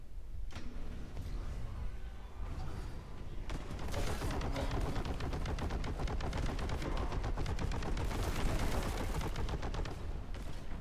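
Gravity cannon fire in the video game Warhammer 40k: Boltgun, a loud stream of rapid, heavy booming shots that builds after a few seconds and keeps hammering with dense, percussive blasts to the end.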